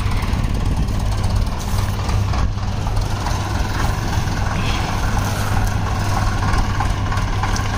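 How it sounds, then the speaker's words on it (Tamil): Tractors, including Shaktiman and John Deere models, roll into a sugar mill yard in Villupuram, with a continuous low engine drone and idling rumble throughout and faint intermittent beeps, no talk. "ஒவ்வொரு டிராக்டர் அப்படியே உள்ளே போயிட்டே இருக்குங்க"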